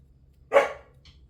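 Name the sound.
dog barking in hallway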